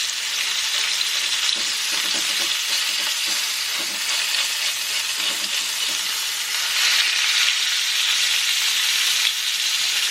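Whale steak sizzles and fries in a hot pan in Japan, a steady dense crackling hiss that holds loud and close throughout with no voices.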